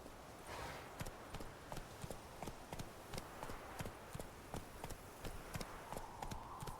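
Roach the horse trots along in The Witcher video game, with faint, evenly spaced hoofbeats clip-clopping in a steady rhythm throughout.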